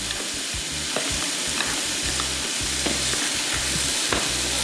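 Lettuce is tossed with a mayonnaise, soy sauce and seasoned salt dressing, making a continuous close, wet, rustling churn with faint intermittent clicks of the utensil against the bowl.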